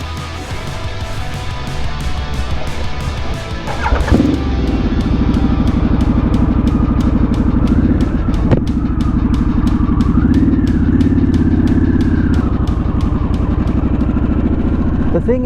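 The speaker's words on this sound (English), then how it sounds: "How about we go for a little ride and I'll show you that the bike is fine" A 2022 Harley-Davidson Sportster S motorcycle pulls away and rides, its engine rising from a lower idle to a louder, steady throaty drone with a brief rev, accompanied by a regular ticking and some speech over it.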